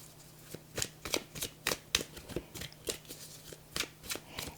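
Tarot cards being shuffled close up, with a steady series of crisp riffling bursts and soft slaps repeating about every third of a second against a quiet background.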